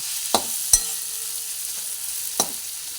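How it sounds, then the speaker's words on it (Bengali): Pointed gourd (potol) with green chili is stirred in a frying pan, a steady close sizzle broken by three sharp scrapes of the spoon against the pan. "কাঁচা লঙ্কাটা আমি এক সাইড দিলাম ভালো করে পটলের সঙ্গে মিশিয়ে দিচ্ছি"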